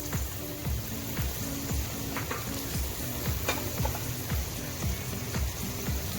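Onions sizzling with mutton in a hot pan for tinday gosht, a continuous crackling fry with rhythmic scraping stirs throughout, close and steady, no talking.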